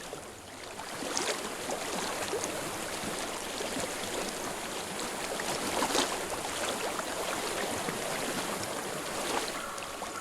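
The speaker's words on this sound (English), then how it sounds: "I hear water." A steady, close rushing of flowing stream water in the Hellblade: Senua's Sacrifice game world, a continuous broad wash with no speech over it.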